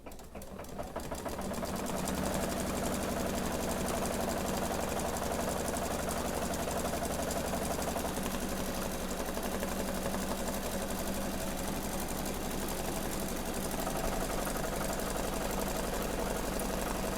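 An embroidery machine runs a steady tack-down stitch sequence through stabilizer for an in-the-hoop pill box design, its motor holding a continuous, even whir with a fast mechanical stitching rhythm throughout.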